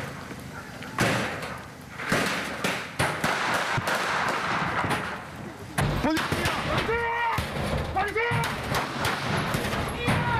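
Gunfire aimed at officers during a police drug raid in Marcos Paz, heard as loud sharp bangs and thuds spread across the clip, with voices shouting in between.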